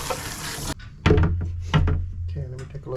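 Running water rinses a cleaned engine intake part that had carbon buildup, a hissing spray for under a second followed by clunks and splashing as the part is handled, with a voice talking over it.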